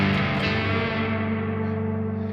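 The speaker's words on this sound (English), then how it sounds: "add the little plate from Sound Toys and then the Echo Boy Jr. from Sound Toys" Processed vocals run through a Soundtoys Little Plate plate reverb with a high mix and a lightly mixed EchoBoy Jr. delay. The sound is a steady, sustained and washed-out tone that stays loud throughout, with a long reverberant tail.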